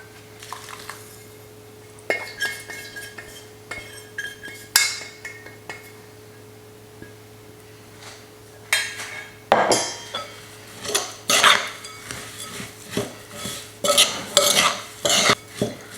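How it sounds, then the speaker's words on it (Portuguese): A spoon scrapes and clinks in a bowl as a granola mix of oats, chia seeds and dried fruit is stirred, starting with sparse knocks and growing into busy, louder stirring. Faint liquid pouring may sit under it, and no one speaks. "Agora vou buscar ali os líquidos para verter aqui e misturar tudo."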